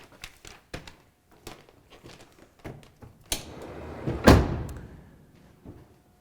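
A series of light knocks and clicks leads into a loud, close car door slam, shut from inside the vehicle, followed by a short rattle and quieter thuds.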